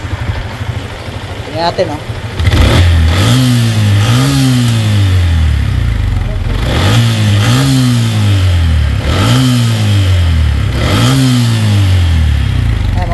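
A Yamaha Sniper 150 motorcycle with a smoking problem starts after a push start and revs repeatedly, its engine rising and falling in loud, close cycles. Someone speaks briefly before it starts.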